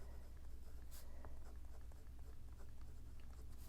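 Dip pen nib loaded with ink scratching across paper, a faint, close, soft scritching of short strokes over a quiet background.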